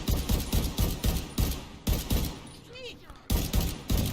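Bursts of automatic gunfire from The Division 2 video game, repeated short volleys roughly every half second with brief pauses, loud and close, set against a busy game soundscape.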